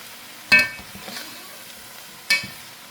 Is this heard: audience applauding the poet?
no